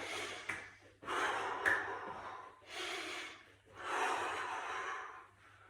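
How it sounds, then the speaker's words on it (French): Forceful breaths out during a cardio gym workout: three long, loud, airy exhalations, each lasting about a second, with short pauses between them and no talking. "Soufflez encore quelques secondes. Pensez à bien respirer pareil quand vous êtes en mouvement."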